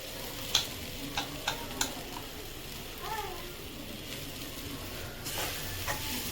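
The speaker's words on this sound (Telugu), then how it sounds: "ఇవంతా బొరుగులకి పట్టేలాగా బాగా మిక్స్ చేయాలి." Puffed rice being mixed into a sizzling seasoning in a pan: continuous frying hiss with scraping and stirring, several sharp spoon taps against the pan, close and moderately loud.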